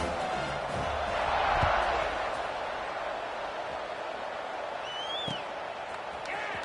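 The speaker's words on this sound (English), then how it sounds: "this crowd is buzzing after that last score" A packed football stadium crowd at an ECU at Marshall game hums with a steady, broad roar after a score, swelling briefly early on before settling into a constant murmur, with scattered shouts and a whistle-like call rising above it.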